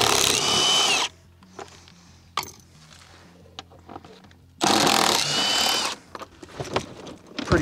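A power tool spins out a 10 mm bolt inside a 2024 Jeep Wrangler four-door, with two loud, close bursts of whirring drive separated by quiet clicks and handling noises.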